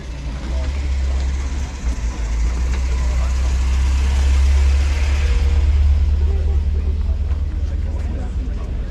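Cars arriving at the BMC & Leyland show at the British Motor Museum, a steady low engine rumble and idling drone close by, continuous throughout with people talking in the background.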